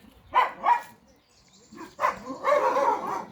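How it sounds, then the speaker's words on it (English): Dogs barking on a farm with chickens, a few sharp barks early then a longer run of barking and yelping, fairly close, with no talk over it. "Dogs are disturbing you."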